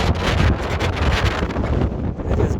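Wind gusting across the summit of San Gorgonio, roaring and buffeting a microphone in loud, uneven blasts with no pause.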